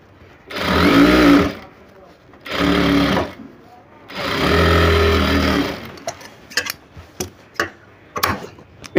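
A sewing machine stitches a blouse in three sustained whirring runs of a few seconds each, close and loud, followed by several sharp clicks and taps of handling.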